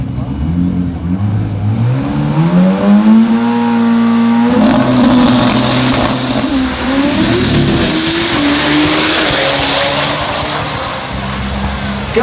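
A compound turbo, billet 4G63 drag car in the Factory Extreme class at a drag racing event launches and roars loudly down the track, its engine note climbing through the gears, then fading as it pulls away, with track announcers and crowd audible.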